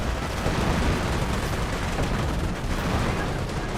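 Grenade blasts and battle noise roar continuously in Company of Heroes, a dense loud wash of explosions and gunfire with no distinct pauses.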